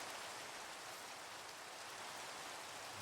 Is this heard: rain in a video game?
yes